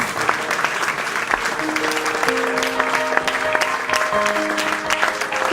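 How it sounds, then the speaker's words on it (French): A church congregation claps steadily for Jesus, dense and continuous, under sustained tones of music or a held voice. "Put your hands together for Jesus."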